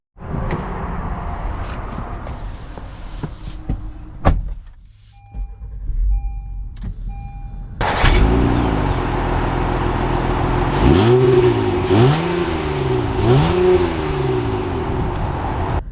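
A 2021 Honda Pilot Special Edition SUV starts up and pulls away, with soft cabin clicks and chimes first, then a sudden engine note and repeated rising revs as it accelerates through the gears, heard up close from inside.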